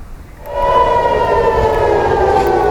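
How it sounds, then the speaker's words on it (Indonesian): A loud air raid warning siren in Tel Aviv rises and then holds a steady, wailing tone, sounding continuously after a brief quieter lead-in. "Suara sirine tanda peringatan terdengar di sejumlah titik di Tel Aviv."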